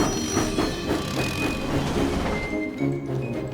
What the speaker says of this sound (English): Later, Thomas huffed happily out of the steamworks with Annie and Clarabelle.